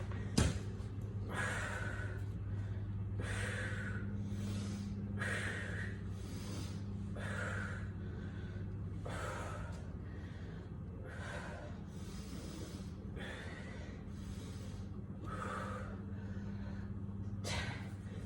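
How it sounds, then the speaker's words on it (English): Loud, rhythmic breathing during a home bodyweight workout of glute ham bridges, repeated forceful breaths every second or so over a low steady hum, with no talking. "You guys have probably noticed that I make a lot of noise when I breathe."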